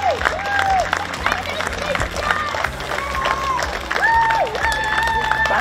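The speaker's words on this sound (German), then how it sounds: "Einmal einen riesigen Applaus bitte für die Kameraden von der Feuerwehr, für den Christian und für den Peter." A crowd applauds at a maypole raising in Mautern an der Donau, Wachau, steady clapping and some cheering spread across a lively outdoor gathering, with chatter underneath.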